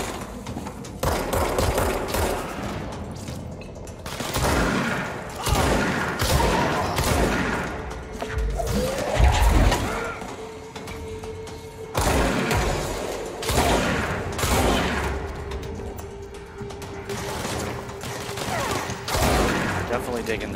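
A shotgun in combat in the Control video game fires over and over in heavy bursts, loud and close, mixed with other impacts and clatter, while a voice talks through parts of it.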